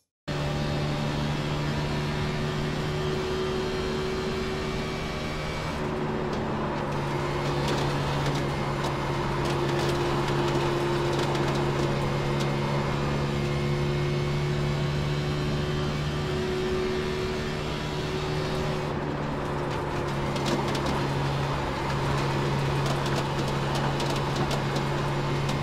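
A race car in iRacing runs a lap at speed at Kansas, its engine a steady, loud droning whine that shifts pitch slightly across the lap with no talk.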